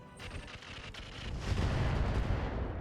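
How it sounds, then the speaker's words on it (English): Mech weapons firing on a Panther mech in RogueTech BattleTech: a rolling series of heavy, booming impacts and artillery-like blasts that build into a dense, loud rumble, without talk. "They're firing on the Panther."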